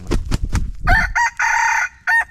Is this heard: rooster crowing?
yes